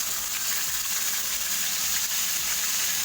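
Squid for adobong pusit drops into a hot pan and fries with a steady, dense crackling sizzle that holds at an even, close level throughout.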